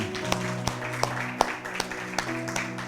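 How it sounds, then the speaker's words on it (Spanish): Scattered applause from a church congregation, individual claps standing out in a fairly sparse, rhythmic pattern over a steady low hum, moderately faint and brief. "Un aplauso al Señor."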